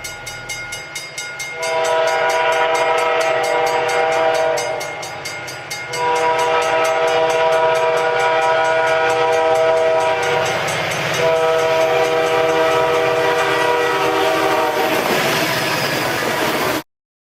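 A QGRY SD40-3 diesel locomotive passes, its multi-note horn blaring loud and close in several long blasts over the rumble and clatter of the train.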